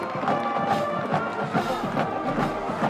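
At a high school football game, a stadium crowd cheers after a touchdown pass into the corner of the end zone, a broad roar with rhythmic surges, heard somewhat distant.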